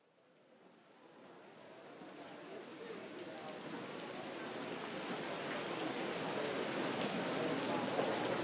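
Steady rain falling outside a stadium, a soft hiss that builds gradually from faint to fuller, with no talk.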